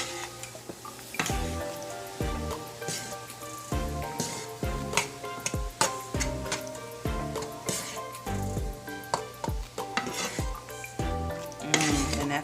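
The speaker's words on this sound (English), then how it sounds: "I am going to add it in right with the mushrooms" Spaghetti squash is stirred into mushrooms and garlic frying in a pan, with a steady sizzle under a rhythmic series of close utensil scrapes and clinks against the pan, and no voices.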